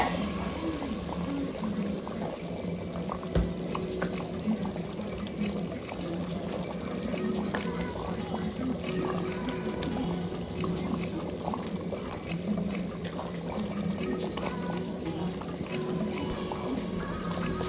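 Cassava leaves with ogiri simmer in a pot, a quiet continuous bubbling and liquid burble running steadily throughout with no talk.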